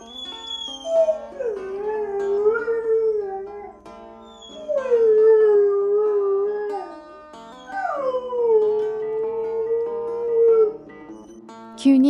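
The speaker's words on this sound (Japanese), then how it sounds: "急に一人になって寂しいのかワンワン泣く" A rescue dog left home alone howls and whines in three long, rising and falling cries with brief pauses between them, close and clear with no talk.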